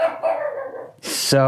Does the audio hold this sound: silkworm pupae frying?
no